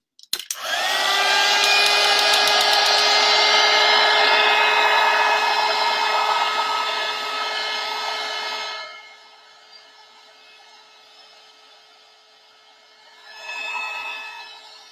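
Heat drying tool blowing on chalk paste over a snowman craft: a loud, steady close-up whine with a strong tonal hum running for about eight seconds, then stopping, with a short weaker burst near the end.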